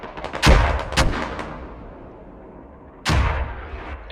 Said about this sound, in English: Enemies on the mortars on hilltop.